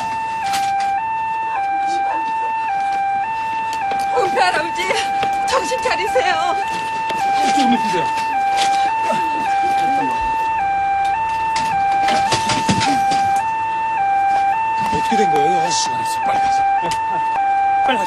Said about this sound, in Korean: 앰뷸런스 왔어요. 빨리 나오세요.